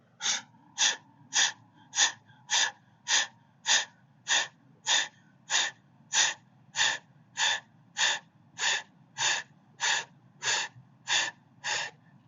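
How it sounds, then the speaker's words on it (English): Rapid forceful yoga breathing, breath of fire: about twenty evenly spaced sharp nasal exhalations in a steady rhythm, close and clear with no talk. "breath of fire."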